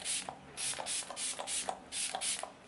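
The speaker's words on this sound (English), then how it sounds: "I've just sprayed it like a kind of around the edges of the face" Fix Plus setting spray hisses in a quick series of about seven short, soft mist bursts spritzed around the edges of a face, close and faint, with no voices.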